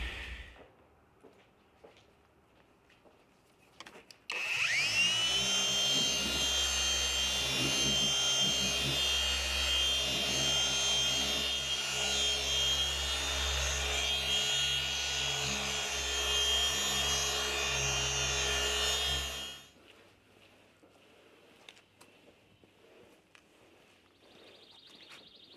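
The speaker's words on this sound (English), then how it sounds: "So I have my cordless, just a black polishing pad. This is going to add gloss and remove that minor marring." A cordless polisher with a black polishing pad buffs the paint of a Mazda CX5, a steady, fairly loud motor whir with a low rumble that starts suddenly, runs for about fifteen seconds, then stops, with quiet surroundings before and after.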